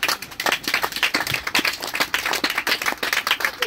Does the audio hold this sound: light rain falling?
no